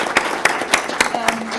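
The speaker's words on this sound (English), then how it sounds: "Let's give a big round of applause to our expert panel" Audience applause for an expert panel at a policy forum: a short run of distinct, fairly close claps at an irregular rhythm, a voice briefly heard underneath.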